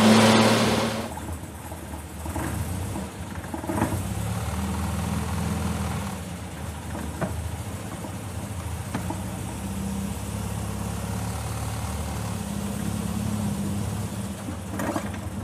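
A Triumph Spitfire sports car engine idles and runs steadily with a low, throaty rumble on a hot day, occasionally rising briefly, and no voices.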